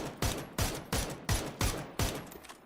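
Six sharp gunshot bursts in the video game PUBG ring out at a steady rhythm, each with a brief echoing tail, loud and punchy with no talking.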